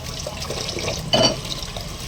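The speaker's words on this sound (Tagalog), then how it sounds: "Mahina lang ang daloy ng tubig." Water runs steadily from a tap, a soft continuous trickle with a brief louder splash midway.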